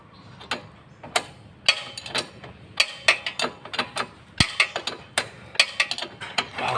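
A wrench ratchets on the rear wheel nut of a Honda Wave 125i motorcycle, giving a series of sharp, irregular metallic clicks and ticks, close and fairly quiet, with no talk.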